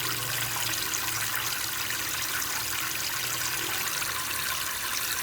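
Tap water runs steadily and fairly loudly into a pot in a home kitchen, a continuous broadband rush with no talking over it.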